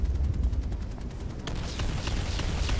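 Rapid gunfire in Planetside Arena rattles in a steady stream of sharp, close shots, with the bursts growing denser and brighter midway through; no talking.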